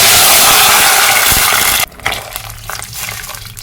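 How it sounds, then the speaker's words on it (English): Water poured into a cooking pot holding chopped onions for rice and egg stew, a loud, steady hissing gush that cuts off abruptly midway, followed by quieter sizzling and bubbling. "I'm now going to go in with some water."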